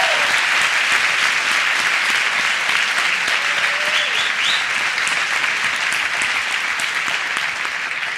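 A live audience applauds steadily for a podcast's audio director, a dense, sustained wash of many hands clapping at close range with no voices standing out, holding loud for the whole stretch before easing slightly at the end.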